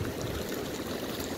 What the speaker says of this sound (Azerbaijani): Turş sular belə qaynayır çıxır.